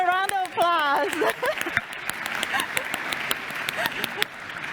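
A conference audience gives a round of applause, scattered clapping building after a brief stretch of talk and continuing steadily at moderate loudness.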